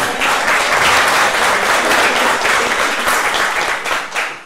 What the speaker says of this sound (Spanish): Dámosle un fuerte aplauso.